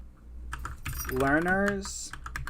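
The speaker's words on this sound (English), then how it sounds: "Can you start typing LeoLearners" Keys clatter on a computer keyboard in a quiet room, a run of light taps running through the whole stretch while a voice talks briefly in the middle.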